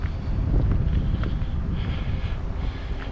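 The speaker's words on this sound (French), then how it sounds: "Et du vent de nouveau." Steady wind beside a lake lined with reeds and pampas grass, a loud continuous low rush buffeting the microphone with faint rustle on top, no voices.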